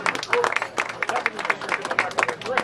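Audience at an awards pre-party event applauding and cheering, a dense patter of claps with bursts of cheers throughout, moderately loud and close, with voices mixed in.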